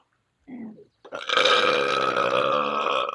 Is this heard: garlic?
no